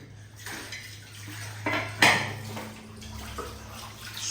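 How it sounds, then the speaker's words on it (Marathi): Tomatoes are washed in water in a metal pot, with clanking of the vessel, a sharp knock near the middle and soft sloshing water, close up and without talk over a low steady hum. "स्वच्छ पाण्यामध्ये धुवून घे"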